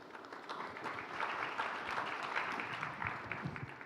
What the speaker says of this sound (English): that applause also includes an appreciation to you, our dear moderator, Hobus Hunul